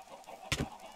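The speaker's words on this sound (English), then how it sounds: "Chickens!" Short burst of chicken clucking from a video game, one loud squawk followed by a second cluck, close and sudden above a faint background.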